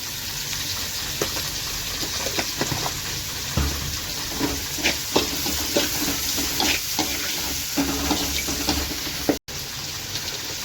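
Chopped tomatoes sauté with a pinch of salt in a hot pan for a rice dish, giving a continuous sizzle broken by repeated scraping stirs of a spoon, with no voices.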